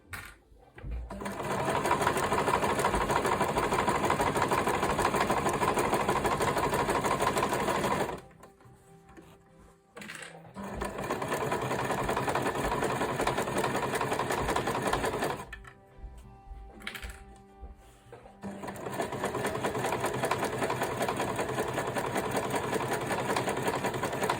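Sewing machine running loud and close as it sews the bottom edge of a zippered make-up bag, in three long continuous bursts separated by brief pauses.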